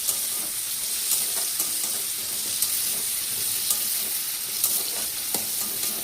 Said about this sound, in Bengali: এবার আমি আদা দিয়ে দিচ্ছি। আদা দিয়ে একটু কষিয়ে নিচ্ছি।